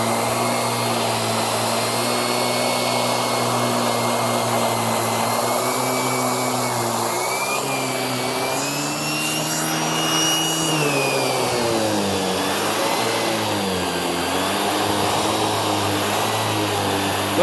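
A Hoover React Professional Pet vacuum runs steadily and loudly on couch upholstery with a constant motor whine, its pitch and airflow shifting slightly midway as the head is tilted and moved across the fabric.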